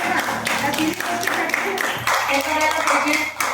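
An audience at a religious gathering marking a pothi reading's completion claps in welcome and appreciation, steady applause under a voice speaking over it.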